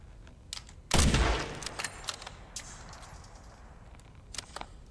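A single sharp, loud sniper rifle shot cracks out in the Resident Evil Requiem video game and then decays, followed by faint scattered clicks and ambient game noise.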